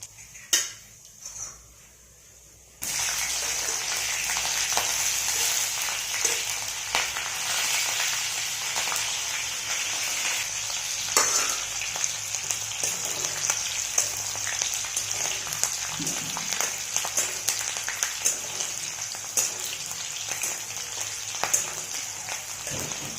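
Green chilies and curry leaves hitting hot oil for an okra stir-fry, a loud sustained sizzle that starts abruptly after a short quiet stretch, with scattered pan and utensil clatter over it.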